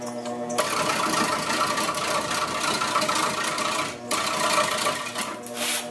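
A Nova 3000 wood lathe spins a wooden workpiece while a roughing gouge cuts it, giving a steady, dense whirring rasp close by that drops out briefly for a moment before resuming.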